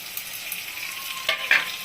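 Spice masala fries in a pan with potato and tomato for a cauliflower and prawn curry, making a soft, continuous sizzle broken by two short, sharper scrapes of stirring near the end.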